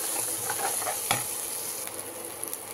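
Masala paste being stirred in a pan with a steady low sizzle, soft scraping strokes and one sharper clink near the middle, with no voices.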